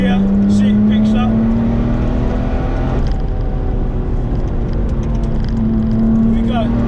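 A 575 bhp Porsche 911 996 Turbo X50 accelerates in third gear, its engine note climbing steadily, loud and close from inside the car, briefly dipping as the revs shift and then rising again.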